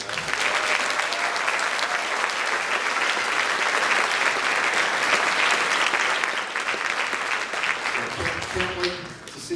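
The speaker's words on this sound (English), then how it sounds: "So how about a round of applause for these guys?" Sustained loud applause from an audience, steady clapping that fills the space for several seconds before tapering off.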